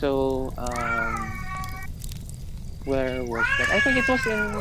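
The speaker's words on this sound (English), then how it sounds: "Yeah, our cat." A cat lets out several long, drawn-out, wavering meows, loud and close, while people talk nearby.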